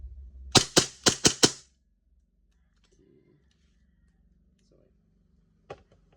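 Five sharp, evenly spaced shots from an EMG John Wick 3 Combat Master airsoft pistol firing BBs, close and loud in quick succession, followed by near silence with faint handling clicks.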